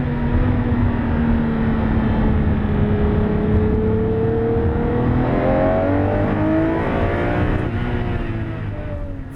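A V12 car engine revs hard and loud, its pitch climbing in a long, sustained rising sweep close to the microphone before easing slightly at the end.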